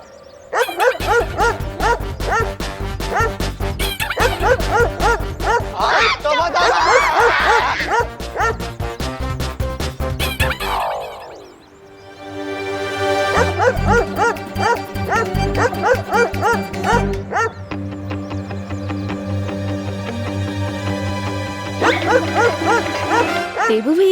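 A small dog's loud, repeated barking and yipping comes in bursts over background music in a Hindi TV scene, where the barking is actually imitated by human voices.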